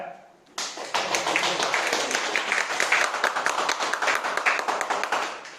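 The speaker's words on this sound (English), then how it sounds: "Clap for the boy." An audience at a goal-setting training session breaks into applause for a young speaker, with dense, steady group clapping that starts abruptly and holds for several seconds indoors.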